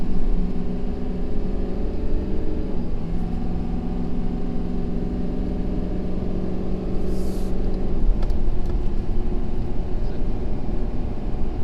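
A Ford F-550 dually truck accelerating while towing a gooseneck trailer loaded to about 30,000 lbs, a loud steady engine drone with humming tones that shift in pitch as it moves up through the gears, with no talk.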